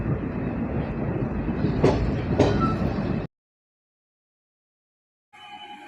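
A passenger express train on the Konkan Railway between Miraj and Mangaluru, near a tunnel, gives a loud, steady close-up rumble that cuts to silence for a couple of seconds, then returns more faintly.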